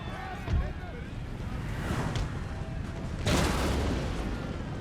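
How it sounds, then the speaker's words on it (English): Cannon fire booms in a Total War: Empire battle, with two heavy blasts rising out of a dense, rumbling battle din. "Oh, there goes that cannon."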